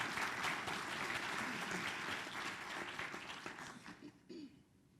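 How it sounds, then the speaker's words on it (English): An audience at a Kenyan leadership forum gives a warm, sustained round of applause, dense clapping filling the hall before thinning and trailing off at the end. "Let's welcome him with a warm round of applause."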